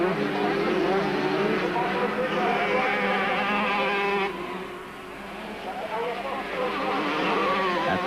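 Kawasaki racing motorcycles in the 1997 Total Super Series screaming past on a track, a steady high-revving engine drone that dips briefly midway, under constant commentary.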